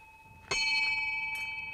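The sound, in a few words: old bell ringing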